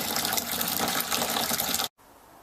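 Cloudy wort is tipped back into the top of a mash tun in a home ale brew, a loud continuous splashing gush that stops abruptly near the end, then a faint quiet tail.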